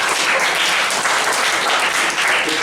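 Applause from students in an Indonesian classroom during a teaching practice session, a dense, steady wash of clapping that fills the whole stretch without a break.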